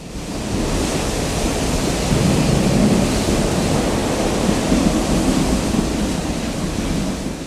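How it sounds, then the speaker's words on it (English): A steady, loud, broadband roar rumbles continuously as the California Zephyr passenger train rushes through an enclosed mountain tunnel in 1969, with no voices. "Our train enters another tunnel."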